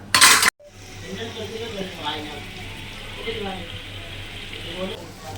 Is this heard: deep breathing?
no